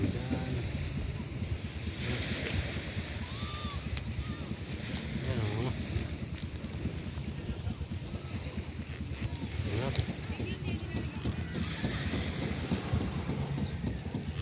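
Broad, rumbling wash of water and engine drone from a large boat moving past near a beach, with wind buffeting the microphone and a few voices faintly underneath.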